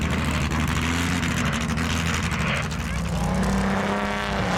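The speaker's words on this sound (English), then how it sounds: "one of the old Auto Union beast race cars" Old Auto Union race car engine roaring loud and close on an icy track, a dense sustained mechanical roar holding steady across the whole stretch with a low rumbling drone beneath.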